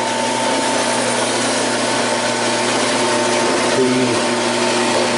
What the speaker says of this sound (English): cutting off a piece of steel now